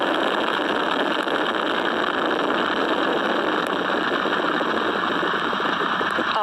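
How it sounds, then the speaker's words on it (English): SLS rocket at Artemis 1 liftoff, four RS-25 core-stage engines and two solid rocket boosters firing, heard as a steady, dense, broadband roar that holds constant without a break, distant yet powerful. "All 4 RS-25 engines on the core stage and 2 solid rocket boosters now propelling the vehicle"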